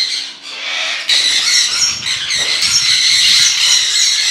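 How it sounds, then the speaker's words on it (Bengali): Sun conure parrots screech nonstop, harsh and piercing shrieks overlapping loudly at close range. "এখানে কিন্তু আসার পরে ভাই পাখি প্রচুর চিল্লায়, সান কনিওর রাখা এই একটা সমস্যা।"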